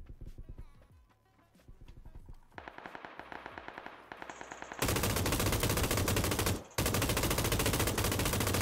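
Gunfire in the game PUBG on console, starting with scattered single shots and building into loud continuous rapid fire near the end, with one brief break.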